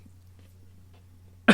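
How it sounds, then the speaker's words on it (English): A single sharp cough bursts out near the end after a quiet stretch with a low steady hum. "I had to cough."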